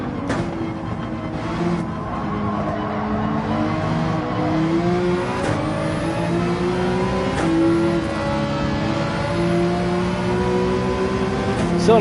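A race car engine in Gran Turismo 7 revs and accelerates through the gears, its whining pitch climbing and dropping with each shift, loud and continuous for the whole stretch.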